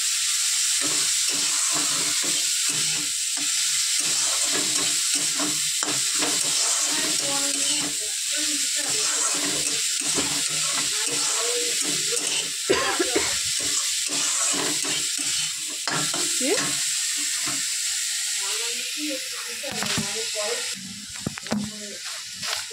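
Fish frying in a pan with almost no oil, with garlic and chilli, gives a steady bright sizzle and crackle over scraping stirring strokes, loud and close throughout.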